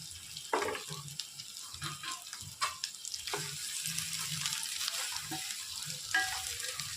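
Chicken pieces frying in oil, a steady close sizzle with occasional stirring knocks and clinks against the pan.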